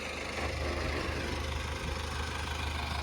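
A tractor engine runs steadily in a muddy field during a disc harrow recovery, a continuous low rumbling idle heard up close for a few seconds with no talking.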